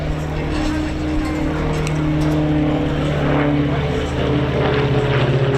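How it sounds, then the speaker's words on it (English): A quiet twin-engine propeller aircraft with 68-horsepower engines at the Old Buckenham airshow, giving a steady, moderate engine drone with a low hum throughout. "It's also a very quiet aeroplane."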